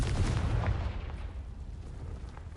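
A deep, booming blast from the Confringo spell in the video game Hogwarts Legacy, a heavy low rumble that hits loud at once and slowly decays into a lingering fiery roar.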